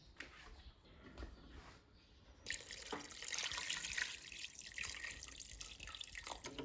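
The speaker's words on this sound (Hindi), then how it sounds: "थोड़ा सा और डाल लेते हैं।" Water is poured into a handmade clay cooking pot, starting as faint trickling and then turning into a louder, steady rushing splash that continues to the end.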